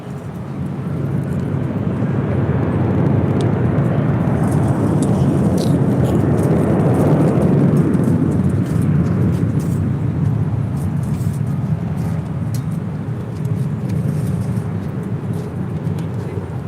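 A United Airlines jet takes off from runway 24 left at LAX. Its deep, loud roar swells over several seconds, peaks near the middle and then eases slightly while staying strong, with no talk over it.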